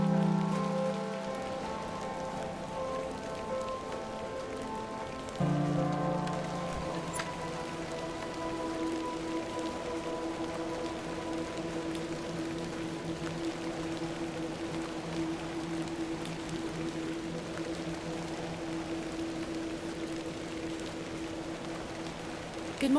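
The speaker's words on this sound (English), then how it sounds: "A little rain is no bother." Steady rain falls in the video game The Excavation of Hob's Barrow, a soft continuous patter beneath sustained musical tones, with no talk over it.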